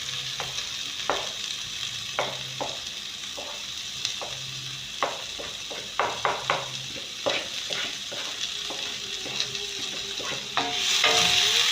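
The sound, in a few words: onion stir-frying in a pan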